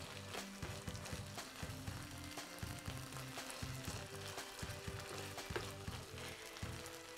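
Onions, garlic and carrots frying in coconut oil in a pan, a steady dense sizzle with crackling pops and occasional stirring scrapes, close and continuous.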